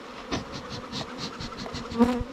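Angry bees buzz close around a beekeeper, a dense, wavering drone of many insects with individual bees swelling louder as they pass nearby.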